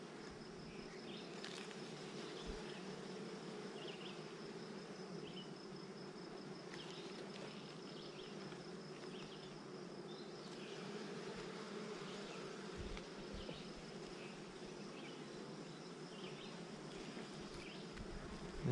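Honey bees swarm and buzz from an opened beehive during an inspection, a steady, dense droning hum that stays close and even throughout with no talking.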